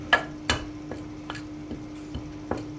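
Masala coating being mixed onto chicken wings in a bowl, a sparse series of light clinks and taps, a few sharp ones at irregular intervals under a faint steady hum, no talk.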